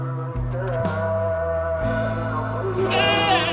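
Goat on Bungin Island, Sumbawa, a grassless, crowded island where goats feed on plastic and paper, giving a few wavering, nasal bleats close by, with some background noise.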